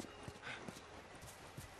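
Faint, quick horse hoofbeats from the video game The Last of Us clip-clopping in an uneven rhythm, quiet and somewhat distant.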